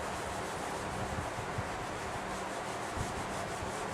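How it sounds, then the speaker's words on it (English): Whiteboard being erased, a steady close scrubbing and rubbing with a soft, constant texture that runs on without pause. "I need a lot of room, so I'm going to have to erase everything right away"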